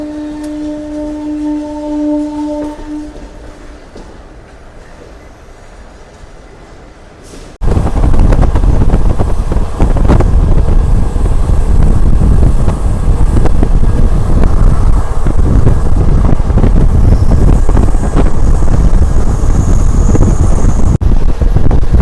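Secunderabad to Villupuram special train running, with a steady loud roar of rolling wheels and wind rushing past, after a quieter opening with a brief tonal hum.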